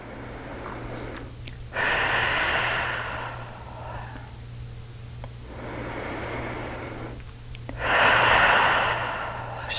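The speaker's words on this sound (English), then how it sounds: "take some cleansing breaths" Slow, deep cleansing breaths during pranayama yoga breathing, close and quiet: long airy inhales and exhales with a couple of pauses between them, no talking.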